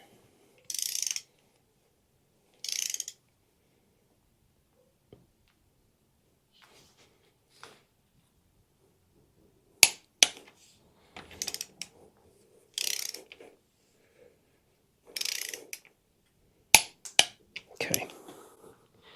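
A torque wrench ratchets in short bursts while rod bolts are tightened on a small block Chevy engine, with sharp clicks as it reaches torque, near and distinct against a quiet background, with faint voice.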